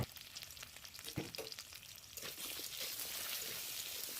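Pieces of taro fry in oil with salt and turmeric, starting with soft scattered crackles and stirring clatter, then settling into a denser, steady sizzle close by.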